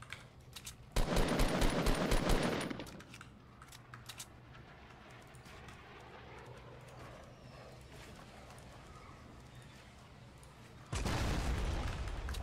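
Homing rockets fire in Fortnite in two loud, rapid bursts of launches, one early and one near the end, separated by a stretch of quieter game ambience.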